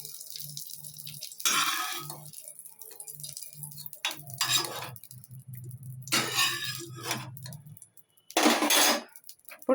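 Ghee-fried raisins are moved into a bowl, giving a few clinks and scrapes of a utensil on metal and glass dishware, separated by quiet pauses with a low steady hum underneath.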